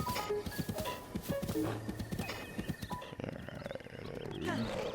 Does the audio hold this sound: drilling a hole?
no